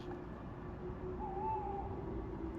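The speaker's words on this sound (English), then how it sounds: "That was an owl." An owl hoots at night near a campsite, a faint, drawn-out call rising once over a steady low hum and background hiss, with no talking.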